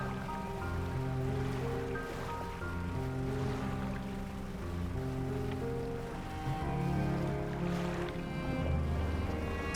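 A fishing boat's engine chugs in the video game DREDGE while sailing, a steady low motor drone mixed with sloshing water and waves, alongside a tonal musical bed, with no talking.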